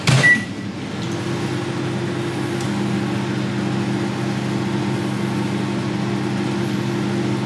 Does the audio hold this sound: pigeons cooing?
no